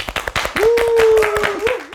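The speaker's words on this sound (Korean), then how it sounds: "박수, 박수." A studio audience claps for a guest on a Korean interview show; brisk, close applause runs throughout while a voice holds a long drawn-out tone over it.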